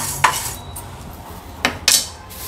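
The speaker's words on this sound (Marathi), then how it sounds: "नंतर ह्याच्यामध्ये आपण चणा डाळ भाजून घेणार आहोत" Chana dal is stirred and roasted in a pan, with a few sharp clinks and scrapes of a spoon against metal spaced unevenly over a quiet background.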